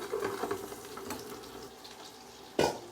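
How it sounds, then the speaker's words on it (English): About a tablespoon of butter goes into a hot pan while searing scallops, giving a faint, low sizzle and light kitchen clatter, then a short, sharp burst of sizzling noise near the end. "I'm gonna throw in about a tablespoon of butter"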